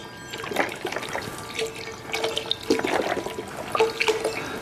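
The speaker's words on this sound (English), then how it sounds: "And then I'm going to add my low salt, low sodium vegetable broth that I bought at my local store." Low-sodium vegetable broth pours into a pot of lentil soup, a close splashing, gurgling liquid stream with small irregular bursts and no voices.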